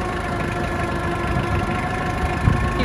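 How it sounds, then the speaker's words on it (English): A farm tractor engine idles close by, a steady loud mechanical rumble with a faint knocking texture and a slight bump near the end, with no talking over it. "So we're just going with the tractor over to Mike's."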